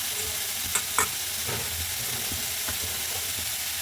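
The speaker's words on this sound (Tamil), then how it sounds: "வெங்காயம் கொஞ்சம் வதங்கட்டும்" Onions sauté in a little oil in a pan, making a continuous close hiss of sizzling with a few light stirring clicks early on.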